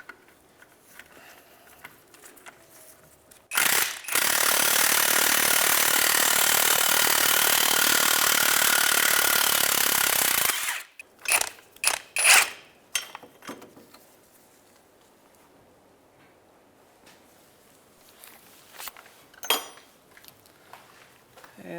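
A 17mm bolt is loosened and removed from the rear differential damper mount bracket on a 2003-2011 Honda Element, with a loud, steady burst of whirring from roughly 3.5 to 10.5 seconds and then several sharp metallic clicks and clanks.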